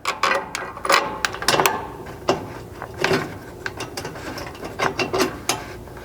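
Ratchet clicking in repeated short bursts while reinstalling factory bolts on a Chevy Colorado skid plate, close and fairly loud, with brief pauses between runs of sharp metallic ticks.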